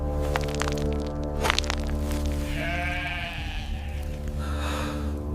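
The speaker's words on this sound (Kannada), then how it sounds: "ಪದ್ಮಗೊಂಡನೆ, ನಿನ್ನ ಪರಿಶ್ರಮದ ಫಲವಾಗಿ ಈ ಕುರಿಗಳು ಉದ್ಭವವಾಗಿವೆ." Sheep bleat in a few drawn-out, wavering calls that rise clearly over a steady droning tone, with sharper cracks early on and no talking.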